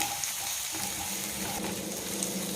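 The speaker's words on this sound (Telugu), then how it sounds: "ఇది వేగినప్పుడు అల్లం వెల్లిపాయ పేస్ట్ కొంచెం వేసుకుందాం" Ginger-garlic paste frying in a pan for a crab curry, a steady soft sizzle with faint watery crackle running evenly throughout, close and continuous with no talking.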